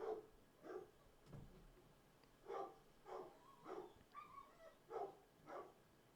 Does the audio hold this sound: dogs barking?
yes